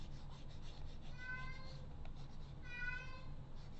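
A house cat meows repeatedly in two drawn-out, whining bursts over a steady low hum, with no talking.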